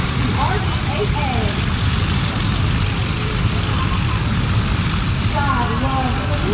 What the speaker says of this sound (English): the RV-8 is an airplane that many can inspire to learn to fly and to fly aerobatics